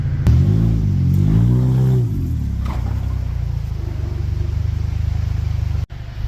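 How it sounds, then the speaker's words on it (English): An old winter beater car's engine runs on a test drive: a loud, close idle rises into a brief rev that settles back, then a steady rumbling drone continues with a short dropout near the end. "let's give her a little test rip"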